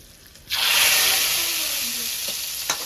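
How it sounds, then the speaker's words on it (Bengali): Hot oil ladled from a wok into a full pot of khichuri or meat curry bursts into a loud, steady sizzle that starts suddenly and slowly fades, with no talking. "এইভাবে আমি সব তেলটাই দিয়ে দেবো, আরো কড়াইতে রয়েছে পরে দেবো আস্তে আস্তে করে।"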